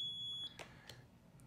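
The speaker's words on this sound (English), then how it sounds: "it's going to show me why, you know, I'm getting a long beep" A steady high-pitched electronic beep from an access control proximity card reader, rejecting an unknown card, holds for about half a second and then cuts off, followed by a few faint clicks in a quiet room.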